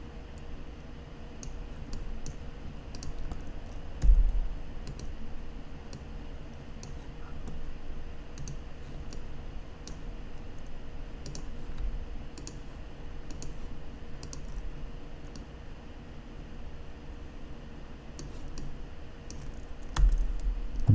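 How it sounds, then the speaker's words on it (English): Computer keyboard presses and mouse clicks sound during Blender 3D modeling: sparse, crisp taps scattered across a quiet room hum, with a couple of heavier thumps standing out. "press W on the keyboard and click subdivide"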